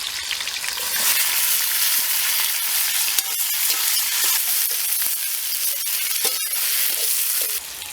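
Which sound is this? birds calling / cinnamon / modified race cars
cinnamon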